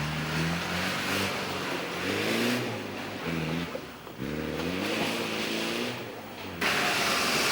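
An off-road vehicle is driven hard on a Camel Trophy special test in Sulawesi, its engine droning and revving up and down in waves, loud and close, with no talk over it.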